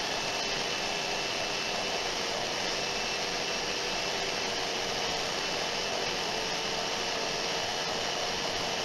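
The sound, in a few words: disc sander sanding wood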